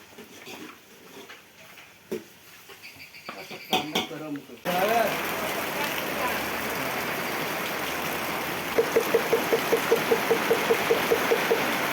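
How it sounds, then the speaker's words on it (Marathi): Heavy rain driven by wind pours down on a village as a dense, steady hiss that starts abruptly after some earlier talk and handling noise. Later, a short run of regular chirping pulses sounds over the downpour. "जबरदस्त पाऊस ना वारा आलाय"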